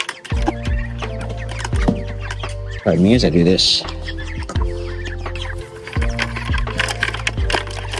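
Chickens cluck and squawk close by in a chicken tractor, with a brief burst of excited calling midway, while a person speaks briefly over the birds.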